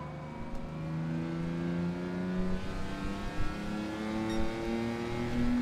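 Race car engine in a racing video game, revving steadily with rising and falling pitch sweeps as it brakes late and accelerates, loud and continuous with no talk.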